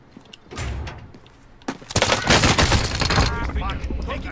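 Rapid gunfire in a multiplayer shooter video game, bursts of loud cracks building to a sustained, close volley over several seconds, with players talking over the shooting.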